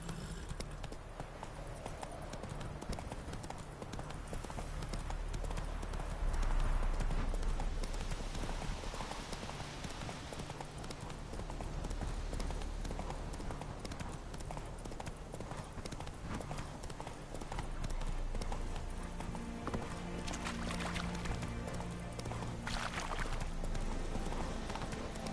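Horse hooves gallop in The Witcher 3 video game, a fast, steady clip-clop running throughout over game ambience, with occasional voice and rising and falling intensity.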